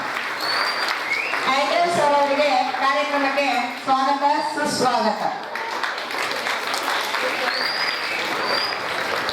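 Steady applause from schoolchildren welcoming a guest at a school talent festival at St. Michael's English School. It runs throughout beneath a loud announcer's voice and continues alone once he stops.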